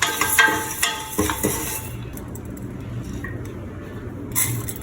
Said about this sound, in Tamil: முதல்ல நம்ம எடுத்து வச்சுருக்க பாசிப்பருப்பை வறுத்து எடுத்துக்க போகிறோம்